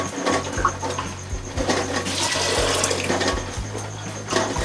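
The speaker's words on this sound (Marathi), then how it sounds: "ह्याच्यात आपण 1-2 तांबे पाणी टाकून घेऊया।" Water is poured from a small vessel onto half a kilo of whole masoor lentils, a close, steady splashing and gurgling that lasts the whole clip, with no talk over it.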